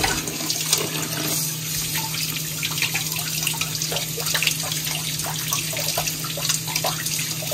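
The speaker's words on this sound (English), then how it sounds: "Right now, I'm just going to rinse them off." Lamb meat is rinsed under a running kitchen tap, giving steady splashing water with irregular spatters and drips close by and a low hum beneath.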